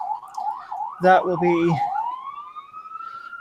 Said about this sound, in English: That's a fire truck, actually.